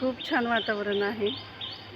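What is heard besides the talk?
birds chirping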